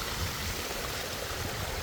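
A small artificial water feature at a spot in Kochi gives a steady, soft wash of flowing water, continuous and fairly faint, with no voices.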